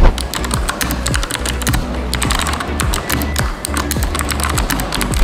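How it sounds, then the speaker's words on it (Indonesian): Typing on a Cooler Master SK620 mechanical keyboard with blue switches, rapid, crisp, loud clicking keystrokes in an uneven, continuous rhythm, heard close up with nothing else around them. "gue mau cobain rasa dari ketika gue mengklik-klik keyboard ini"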